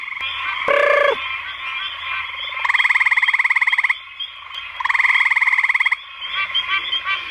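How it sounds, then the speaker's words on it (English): Pine barrens tree frogs calling in a breeding area: two long bursts of rapid, nasal honking notes, loud and near, with a brief lower croak before them and quieter calls between. "we're finding more and more breeding pairs of pine barrens tree frogs"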